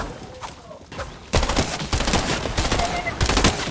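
Shotgun blasts in a Fortnite battle royale match, a few loud, sharp reports bursting out one after another over busy in-game noise, following a quieter opening stretch.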